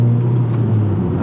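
Short burst of a tuned 9th-generation Honda Accord engine at high revs, a loud steady low hum with road rumble, lasting about a second with no talk.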